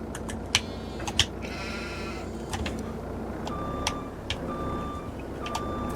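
Several sheep bleat in short, scattered calls over a steady farm vehicle engine rumble in Farming Simulator, with faint repeating beeps in the background.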